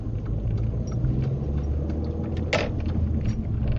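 A car pulls away in first gear, its engine a low steady rumble heard from inside, with a brief mechanical clunk midway and no speech.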